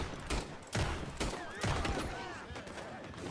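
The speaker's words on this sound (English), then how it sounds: "shooting at us right now" Video game gunfire crackles in several sharp bursts, near and fairly loud, mixed with shouting and chatter from players.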